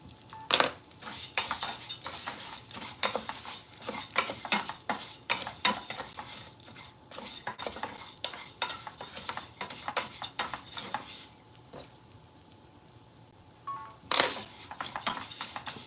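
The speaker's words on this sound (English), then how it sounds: "When frying the vermicelli, you do want to frequently mix it" Vermicelli is fried in a pan for Egyptian green beans, with a constant sizzle under repeated scraping stirs of a utensil against the pan in quick irregular strokes, close and fairly loud, pausing briefly near the end.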